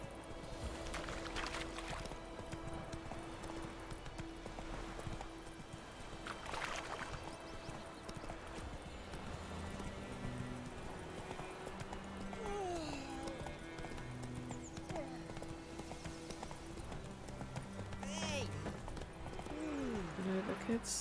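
Roach the horse gallops in Witcher 3, steady clip-clop hoofbeats running under constant game music and ambience, with someone talking over them now and then.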